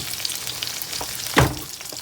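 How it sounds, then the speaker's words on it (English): Green peppers and onions sizzling in a pan, a steady low crackle with one sharp scrape or clatter of a utensil partway through. "So I'm mixing up some green peppers and onions,"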